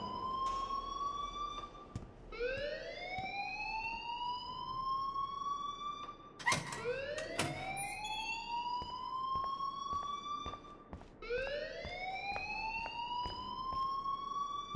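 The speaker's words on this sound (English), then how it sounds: "please turn off that alarm since that's your job" An alarm in the Life Is Strange video game wails in rising electronic sweeps, loud and repeating about every four seconds, with sharp clicks and bursts scattered between the tones.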